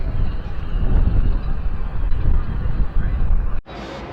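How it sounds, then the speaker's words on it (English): Steady rushing wind buffets the microphone in a loud, continuous roar high up on the deck of the Nao Santa Maria ship replica, cutting off abruptly near the end. "It's a bit high and windy up here."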